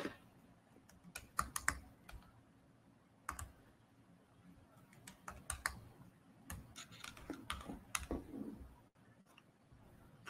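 Computer keyboard typing during an online poker session, a run of quick key clicks in irregular bursts at close range, fairly quiet, with no speech.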